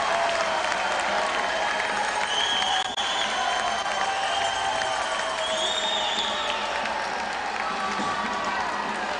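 A college men's basketball crowd in a gym cheers and applauds steadily, a loud, continuous roar of clapping and shouting with whistles and higher voices rising over the din.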